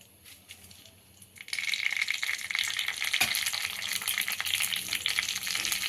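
Chutney ingredients hitting hot oil on a high flame, a quiet start that jumps into a loud, continuous, close sizzle with crackles and a brief stir, no voices.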